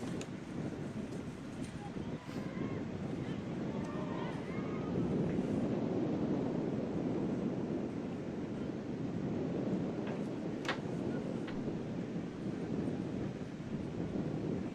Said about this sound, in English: You see that wind starting to pick up here at West Cabarrus High School.